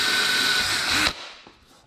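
Power drill boring into a 24-year-old GM plastic inner door panel on a Corvette C4, a loud steady whine for about a second that cuts off abruptly, leaving faint clicks and handling noise.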